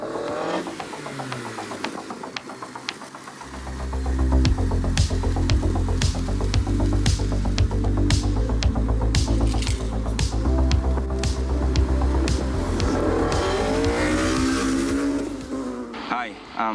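A championship white 2004 Honda Integra Type R DC5 engine starts a steady, loud drone a few seconds in and holds it while the car drives, with sharp higher accents scattered over the continuous rumble.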